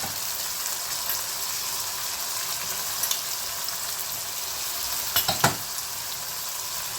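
Spices such as cardamom powder, red chilli, turmeric and coriander powder fry in a kadhai for a drumstick curry, a steady close sizzle broken by a few sharp clinks of a spoon stirring the pan.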